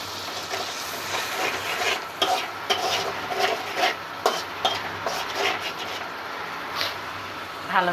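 Spice paste with chili powder and salt is stirred and sautéed in a pan, with repeated scraping strokes over a continuous sizzle, close and fairly loud.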